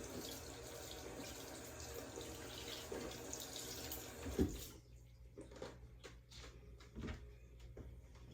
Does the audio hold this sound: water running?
yes